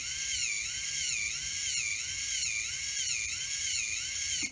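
A high-pitched, whirring drivetrain whine from an SCX24 Jeep Gladiator RC crawler, caused by its CVD axles, with a steady rhythmic warble, continuous and close, stopping abruptly at the end.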